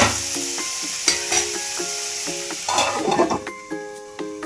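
Brinjal pieces with egg and prawns fry in a pan, a bright crackling sizzle broken by repeated scraping and clinking stirs of a spoon, close and fairly loud.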